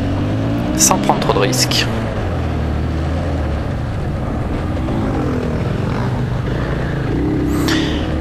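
A 500 supermotard motorcycle screams at full throttle down a race straight, a loud sustained engine roar heard from on board with wind noise, while someone talks over it.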